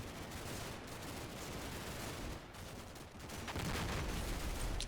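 Mortar rounds and gunfire in the Combat Mission: Black Sea war game, a dense continuous barrage of rumbling blasts and crackling shots with no voices, swelling louder toward the end.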